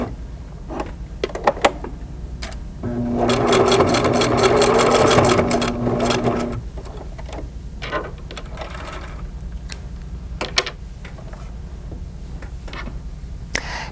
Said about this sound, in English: Place under the presser foot and straight stitch, back stitching several times.